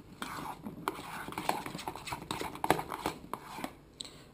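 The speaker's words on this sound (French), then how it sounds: "j'ajoute le sucre glace, je mélange le tout" A spoon clinks and scrapes against a bowl as liquid vanilla and icing sugar are mixed together, with soft irregular taps under quiet speech.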